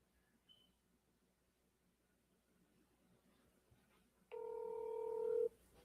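Telephone keypad tones sound as a call is placed: one long, steady, loud dual-tone beep near the end, after quiet room noise with a couple of faint earlier beeps.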